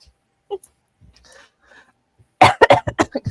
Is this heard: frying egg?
no